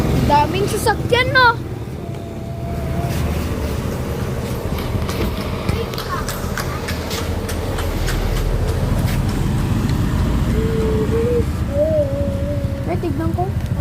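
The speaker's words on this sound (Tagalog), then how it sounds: "Daming sasakyan" Heavy street traffic with many vehicles passing: a continuous low rumble of engines, occasional horn-like tones and mechanical clatter, with people talking nearby throughout.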